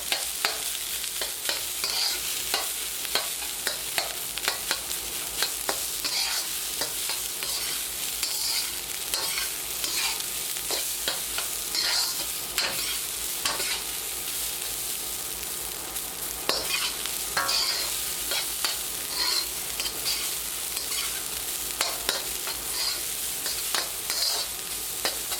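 Rice stir-fries in a pan for blue crab fried rice, a soft continuous sizzle broken by repeated scraping, clattering stirs of a utensil, fairly quiet and close with no talk.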